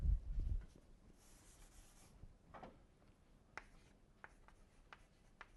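Chalk or marker scratching across a lecture board, faint short strokes and taps in an otherwise quiet room, preceded by a brief low bump.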